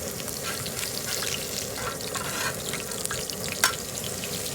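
Pork patties sizzle and fry steadily on a Southwest Disk outdoor griddle while being flipped, a continuous close crackle with a brief sharper scrape near the end.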